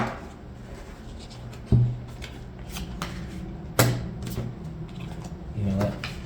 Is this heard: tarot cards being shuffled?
yes